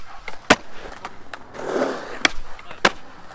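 A skateboard with a steep kick deck rolling on a ramp, with sharp wheel and deck clacks at irregular intervals over a rough rolling rumble, close and fairly loud.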